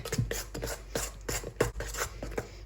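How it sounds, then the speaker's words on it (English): A whisk scrapes and taps rhythmically through cupcake frosting in a bowl as a drop of food colouring is mixed in, with quick close strokes repeating at an even pace. "add like a tiny drop and then kind of whisk it around"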